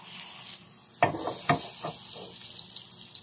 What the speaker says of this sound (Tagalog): Nasa medium heat, nagpainit tayo ng pan. Ayan, nagkat ako ng maliit lang. Mga 2 tablespoon ng butter.